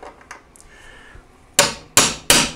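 Three sharp metallic hammer blows on a drift punching out rivets ring out close by near the end, following a few quieter clinks and taps, during a snowmobile tunnel repair.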